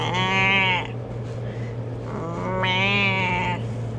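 A sheep bleats twice nearby, each call a long, wavering, nasal baa, with a quiet pause between them over a steady low hum of background noise.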